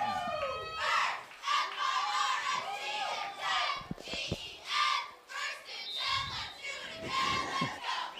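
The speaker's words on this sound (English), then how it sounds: "Like that cheer, 1st and 10" A high school football crowd at a Shelton at Timberline game chants and shouts in rhythmic, loud bursts of a cheer, with many voices rising and falling together, including younger voices.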